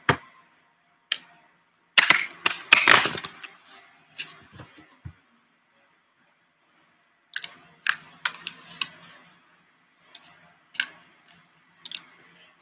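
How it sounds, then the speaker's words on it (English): Tarot cards shuffled by hand at close range, with bursts of crisp riffling and slapping clicks separated by quiet pauses and no talking. "So give me a few minutes to shuffle."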